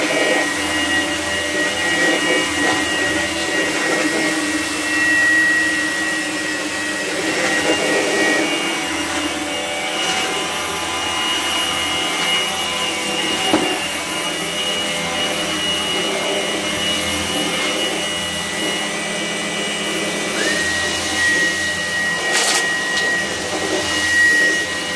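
A homemade vacuum cleaner powerhead runs during testing with a steady, loud, whining roar and a high-pitched tonal hum, continuous and close throughout.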